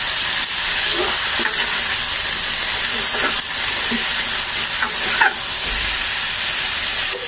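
Chicken sizzles and hisses loudly in margarine in a hot pan, with scattered scraping and clinks of a utensil stirring through it.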